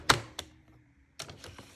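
Paper being cut for an Easter pop-up cross card on a cutter: a sharp thunk, a second knock, a pause, then a quick cluster of clicks and scrapes, close and short with no speech.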